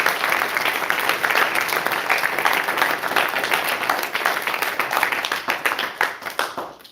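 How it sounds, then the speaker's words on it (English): A crowd at an Eagle Scout Court of Honor breaks into sustained applause, dense clapping from many hands close by that thins into fewer, distinct claps before fading out. "let's give our Eagle Scouts one more round of applause"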